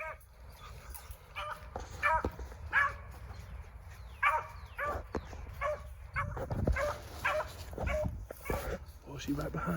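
A hunting dog gives short yips and barks out among briars, repeated irregularly at moderate distance. People talk over and between the barks.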